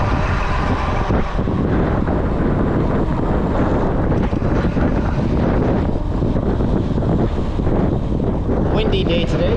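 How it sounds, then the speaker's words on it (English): Wind on a hot, roughly 100-degree day at a pond in Las Vegas, a steady loud roar buffeting the microphone throughout, with faint talk mixed in. "Windy day today."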